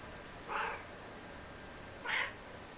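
A cat gives two short meows about a second and a half apart, fairly clear and close against a quiet room with low background hum.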